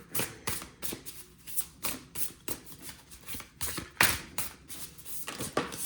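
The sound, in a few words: shuffling and drawing oracle cards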